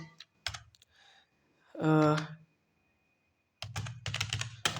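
Java code is typed on a computer keyboard in short bursts of quick, close clicking, broken by a pause and a spoken phrase between the runs of keystrokes.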